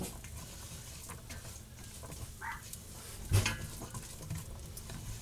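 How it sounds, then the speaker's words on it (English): Diced vegetables softening in a pot for corn chowder give a quiet, steady sizzle, joined by a loud scrape or clank of stirring partway through. "We're just going to soften these veggies."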